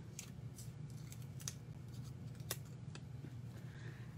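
Scissors snip through a small piece of paper or card for a treat box, a few quick, crisp, close cuts spaced irregularly against a quiet background.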